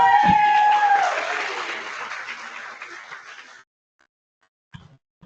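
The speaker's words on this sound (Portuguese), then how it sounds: "Palmas para eles!" Applause from an audience at the opening talks of a university event in Brazil, loud at first with cheering, then thinning out and fading to silence, followed by a brief noise.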